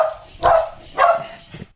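A dog barks three times, two full, loud barks followed by a shorter, softer third, spaced about half a second apart at close range.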